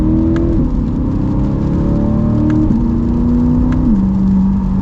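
A modified 2020 Chevy C8 Corvette accelerates hard in the rain, its engine note climbing steadily through several gear shifts, loud and continuous, with no talking.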